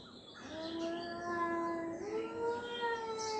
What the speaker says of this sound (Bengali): এ দেখুন বিড়ালগুলো কিভাবে ঝগড়া করছে